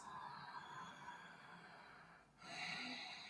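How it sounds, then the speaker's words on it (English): Noisy ujjayi yoga breathing, a soft, hushed throat-constricted breath held steadily, then a brief pause before a slightly louder breath resumes, close and quiet with no talking. "Noisy ujjayi."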